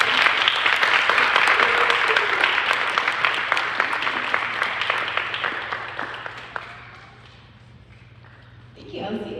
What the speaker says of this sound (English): can you give it a round of applause again?